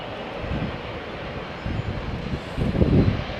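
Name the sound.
Boeing 777 taking off from Heathrow runway 27 right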